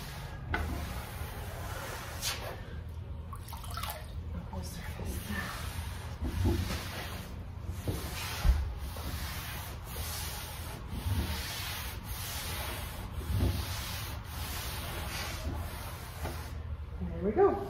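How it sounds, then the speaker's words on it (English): A cloth wipes bleach over a wooden table in long, steady rubbing strokes, close and continuous for the whole stretch, with a faint background hum underneath. "I'm gonna wipe it over."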